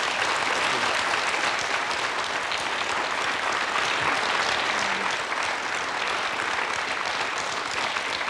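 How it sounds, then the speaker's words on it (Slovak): A studio audience breaks into a big, steady round of applause celebrating a father's birthday on a Slovak television show, the dense clapping sustained and even from start to finish with no voices standing out. "tak myslím, že by sme mu mohli zablahoželať aj my všetci ešte raz jedným veľkým potleskom"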